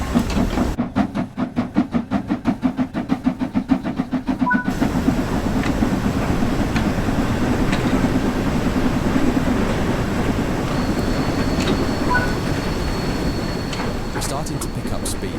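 A steam locomotive starts off in the Train Sim World 5 video game, with rhythmic chuffs over the first few seconds that settle into a steady rolling rumble.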